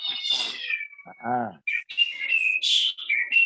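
A bird chirps and whistles up close in bright, high warbling phrases, with a short lower cat-like call partway through.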